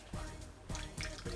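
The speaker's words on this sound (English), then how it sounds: "I'm just gonna add a bit of water" Water poured from a measuring jug into a pot of chicken stew, heard as a steady, close splashing pour with rhythmic surges as the stream hits the liquid.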